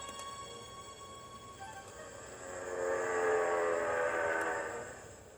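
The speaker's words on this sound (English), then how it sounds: ""Eee!" whistled James." A steam train whistle sounds with rising intensity, a sustained shrill tone swelling in the middle and holding over a rumbling background.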